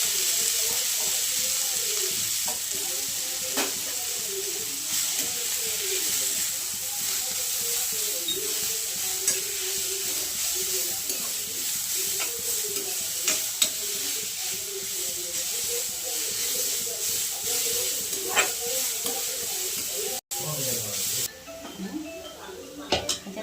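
Cowpea vegetable fries in a little oil in a pan, giving a steady hissing sizzle broken by scraping stirs and occasional clinks, with a voice talking over it in places.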